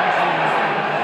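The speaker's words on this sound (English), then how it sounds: "Not sure if the crowd are too happy with that one" Hurling match crowd in a Clare versus Kilkenny game, a dense, steady roar of many voices reacting to a line ball decision, broad and sustained without a clear peak.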